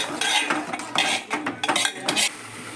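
Sauce and chilli being mixed in a metal pan for cauliflower gobi manchurian, quick rhythmic clinks and scrapes of a utensil against the pan in close bursts, no talk.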